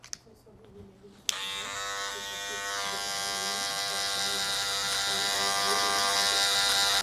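Electric hair clippers with a 1 guard open buzz steadily while cutting a medium fade at a barber school, starting abruptly after brief quiet and holding a close, continuous hum.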